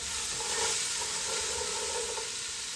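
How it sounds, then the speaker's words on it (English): Carrots and onions sauté in a pot with a steady, close, even sizzle and hiss that never lets up. "carrots and onions going in the pot. We're gonna saute these"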